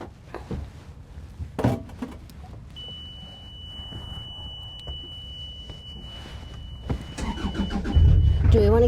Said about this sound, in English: I'll fire up the motor.